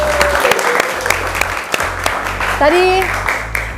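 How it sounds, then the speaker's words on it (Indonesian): Applause from an audience greeting national pencak silat athletes, a dense run of clapping under a speaking voice, with a brief rising tone near the end. "Tepuk tangan dong"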